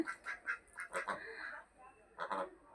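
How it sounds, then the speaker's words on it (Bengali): Several ducks at a neglected backyard duck farm quack in a rhythmic run of close, nasal calls, pausing briefly before another pair of quacks. "এই যে মাসাল্লাহ দেখেন হাঁসগুলো আমার"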